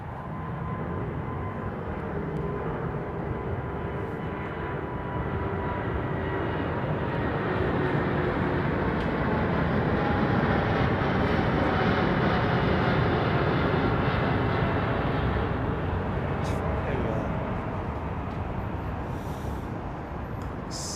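A Qatar Airways Airbus A380 roars on the runway at London Heathrow, a steady, loud, broadband jet-engine rush that swells slightly and holds for the whole stretch.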